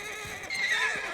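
A horse gives a short, close whinny, a bright quavering neigh lasting about a second with faint hoof sounds beneath.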